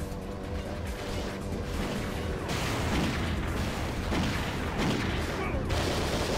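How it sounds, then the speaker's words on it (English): Bursts of gunfire from the Pursuit Force video game crackle in rapid, overlapping volleys over a continuous engine-like rumble, fairly loud and dense throughout. "Just aim at him and shoot him"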